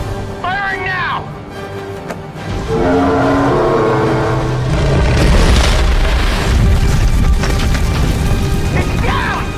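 In a movie alien-invasion battle, a weapon fires and a heavy explosion booms, followed by a sustained loud rumble. A shouting voice is heard near the start.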